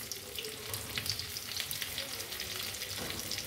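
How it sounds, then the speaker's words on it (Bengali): Cauliflower pieces fry in hot oil over a lowered gas flame, a soft, steady sizzle with crackling pops and light stirring, fairly quiet and without any voice. "দেখো, এবার এই ফুলকপিগুলোকে দিয়ে গ্যাস কমিয়ে অল্প অল্প করে ভাজবো।"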